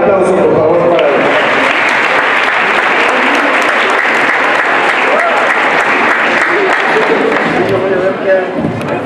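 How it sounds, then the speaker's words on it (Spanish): Loud, sustained applause from an audience at a school ceremony for violence-free schools, greeting the director, Dr. Evaristo Galeana Figueroa. Dense clapping runs steadily for about nine seconds with crowd voices mixed in, fading slightly at the end. "Un aplauso, por favor, para él."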